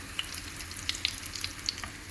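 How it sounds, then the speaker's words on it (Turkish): Quiet, steady sizzling of kadayif frying in a pan on a stovetop, with a few faint crackles and pops. "Kadayıfımızı kızartıyoruz."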